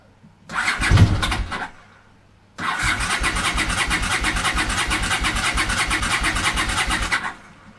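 A Honda CX500 C motorcycle engine being started at half throttle with no choke: a brief cranking burst stops, then a second try catches into a steady, loud, rhythmic idle that runs for several seconds before cutting off.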